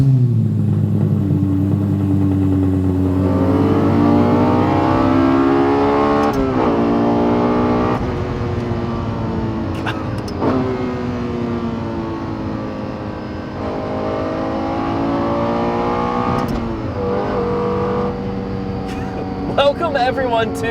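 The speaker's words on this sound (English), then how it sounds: "let's fire it up, get it out on the road" A Lexus LFA Nurburgring Edition supercar, one of 64 built, fires up and revs, its engine note climbing and falling in repeated strong sweeps, loud and close throughout with a steady idle underneath.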